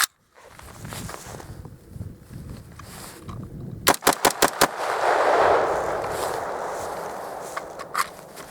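Five rounds fire in quick succession from a Frog Lube-lubricated gun during sub-zero outdoor testing at dusk: a tight, loud burst of sharp cracks, followed by a rushing noise and faint movement.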